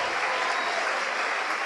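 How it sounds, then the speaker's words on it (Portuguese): Dense, steady applause from a large audience at a São Paulo gathering, loud and continuous with no pauses or voices. "vamos dar para esta palavra a mais linda e mais poderosa salva de palmas"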